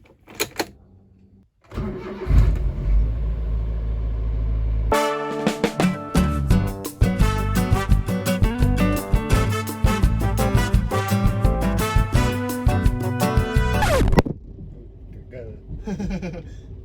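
A car engine cranks and starts, then idles and revs steadily in a cramped spot where it is about to be moved for washing, before cutting out near the end.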